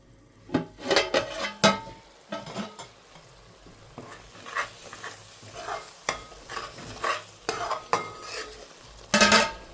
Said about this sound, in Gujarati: ચાલો આપણે એકવાર મસાલો ફેરવી નાખીએ, મિક્સ કરી લઈએ.